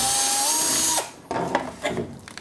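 A power drill with a 5 mm bit whines at high speed for about a second, then winds down, followed by a few light rattles and knocks nearby.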